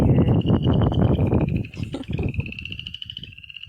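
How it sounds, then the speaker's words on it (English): Frogs croak outdoors in February beside wind chimes, a steady high-pitched pulsing chorus over rustling and handling noises from working on seed trays nearby. "I'm out here starting on my seed trays. And I just get to hear the magic of frogs."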